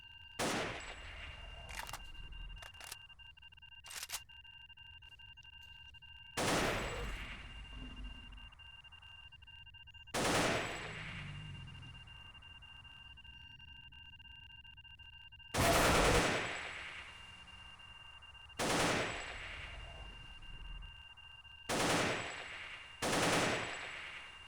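Gunfire in a video game rings out in separate sharp bursts spread across the stretch, loud cracks with quiet gaps between them and no one talking.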